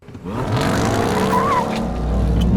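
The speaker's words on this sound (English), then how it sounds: "I hit the launch button. It says apply full throttle." A 2021 Ram TRX pickup launches at full throttle, its engine surging into a loud, rising roar with tire squeal, close and continuous, with no talking.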